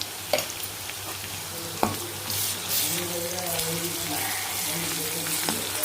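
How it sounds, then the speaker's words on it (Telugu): Ginger garlic paste fries in a pan for a dry fish curry, giving a steady close sizzle and hiss with a few clinks from stirring and a voice talking over it. "అల్లం వెల్లిపాయ పేస్ట్ వేసి మంచిగా వేగనిద్దాం పచ్చి వాసన పోయే వరకు"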